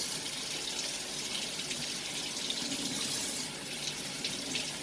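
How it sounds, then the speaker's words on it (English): Water runs hard from a turned-up tap while a vinyl record is rinsed beneath it, a steady, close hiss and splash that continues unbroken without any talking. "So turn the tap up high"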